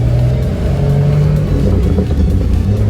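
Toyota Land Cruiser engine with a newly fitted exhaust, a deep steady rumble with a strong low drone, close and loud throughout, no voices.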